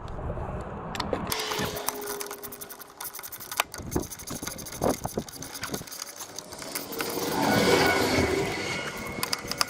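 Ratchet working on 8 mm bolts holding a push mower carburetor, bursts of quick clicking pawl ratcheting close by, interrupted by pauses and small metallic handling knocks.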